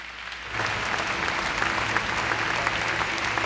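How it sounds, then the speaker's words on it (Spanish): A church congregation bursts into sustained applause after a quiet start, many hands clapping in a dense, even roar that holds steady to the end. "lo recibimos con un fuerte aplauso"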